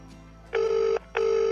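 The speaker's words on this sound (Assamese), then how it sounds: "ৰিং কৰি আছে ফোনডালে ৰিচিভ কৰা নাই দেখোন" Phone ringback tone on an unanswered call: two identical long electronic rings with a short gap between them, clear and close, with no voices.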